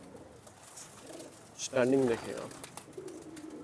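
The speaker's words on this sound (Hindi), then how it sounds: "ये देखिए दोस्तों ये डब वाले कबूतर" Dub pigeons coo in a low, rolling burst at close range, rising midway through, while someone speaks in Hindi over steady background noise.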